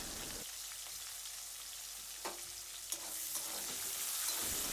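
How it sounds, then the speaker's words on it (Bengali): Panch phoron, bay leaf, onion and green chili frying in oil for khichuri masala, a steady bright hiss of sizzling throughout, with a couple of small pops and a slight swell near the end. "এখানে 5 ফোড়ন, তেজপাতা, পেঁয়াজ, কাঁচা লঙ্কা লাল লাল করে ভেজে নেব।"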